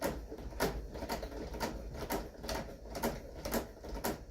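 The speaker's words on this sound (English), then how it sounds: "put my sewing machine on a decorative stitch function" A sewing machine whirs and taps in a rapid, regular rhythm, running a decorative stitch on fabric at steady speed.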